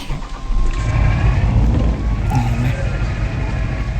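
Steady rain falls in the truck driving game Truckers of Europe 3, a constant hiss layered over a low engine rumble, with occasional faint mechanical creaks and clicks.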